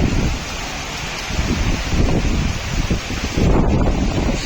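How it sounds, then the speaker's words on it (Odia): Strong wind and rain of a Kalbaishakhi storm in Bhubaneswar, a loud continuous roar with gusts buffeting the microphone and rain hissing steadily throughout, swelling louder near the end. "ଆରମ୍ଭ ହେଇଗଲା ବର୍ଷା ପବନ ମାଡ଼ ଜୋର"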